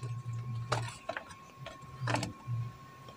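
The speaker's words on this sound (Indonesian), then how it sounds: "Kita akan bongkar 1 2 3 4 5 6 skrup ini pakai obeng yang gede kayak gini" A large screwdriver unscrews the screws on a wall fan, giving quiet, close mechanical ratcheting clicks and short scraping twists in a few separate bursts, with a steady faint hum in the background.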